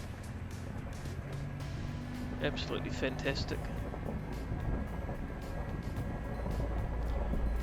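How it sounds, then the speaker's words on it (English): A low, labouring 4WD vehicle engine drone rumbles continuously in the background as it struggles uphill, while a person talks over it. "And you can hear my vehicle struggling in the background."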